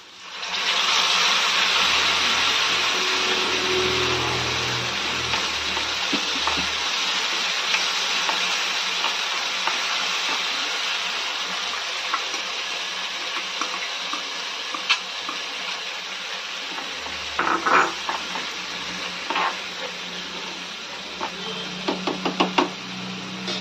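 Ground masala paste fries with browned onions in a pan of okra masala, giving a steady, fairly loud sizzle and hiss throughout, with occasional knocks and scrapes of a spoon near the end.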